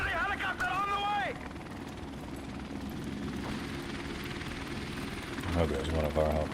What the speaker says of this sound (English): there's one of our helicopters.